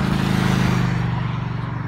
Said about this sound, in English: A lot of traffic around here.